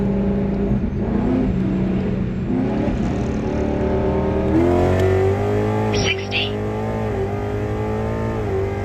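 Ford Mustang with a 120 mm ESS supercharger accelerating from 60 to 130 with two people aboard and a full tank, engine and supercharger whine climbing steadily through the gears with a brief shift, loud from inside the cabin.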